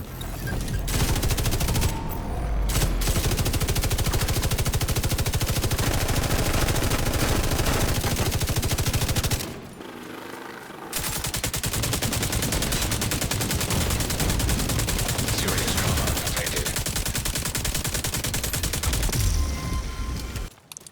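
Rapid, dense automatic weapon fire from a gunfight in the video game Division 2 roars almost nonstop at close range. A short pause near the middle breaks it, then the sustained bursts resume until near the end.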